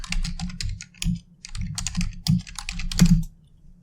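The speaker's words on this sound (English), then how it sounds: "we're gonna have to risk some typing noises while we look this up" Rapid, irregular typing on a computer keyboard, clusters of close clicking keystrokes separated by short pauses, loud and near with no speech over it.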